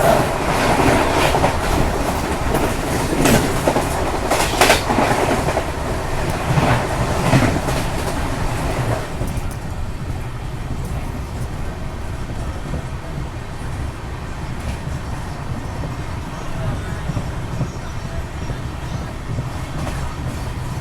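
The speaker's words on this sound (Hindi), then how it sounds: "और अभी आई थिंक क्रॉस होने वाली है ट्रेन नंबर 20630 तिरुवनंतपुरम से चल के सिकंदराबाद को जाने वाली।" Train 20630 from Thiruvananthapuram to Secunderabad rolls past, its loud rushing roar and wheel clatter strongest in the first nine seconds, then easing into a steadier, softer rumble and rattle.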